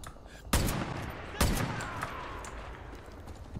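Two loud gunshots ring out about a second apart in the video game Far Cry 5, each with a reverberant tail, followed by quieter game ambience.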